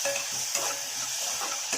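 Onions with added salt frying in a pan for mutton soup, a continuous close hiss and sizzle with periodic clinks and scrapes as a spoon stirs them around.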